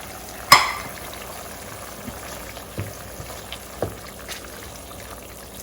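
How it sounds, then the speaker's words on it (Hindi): Onions fry in oil over medium heat with a low, steady sizzle, broken by a sharp clank near the start and a few soft knocks of a utensil against the pan. "और मैंने आधी प्याज इसमें डाली, मीडियम हीट पे रखा हुआ है मैंने ऑयल को भी।"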